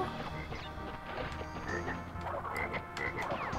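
Frog croaks from the 1998 PS1 game Crash Bandicoot: Warped repeat continuously throughout, dense and prominent over busy game sounds.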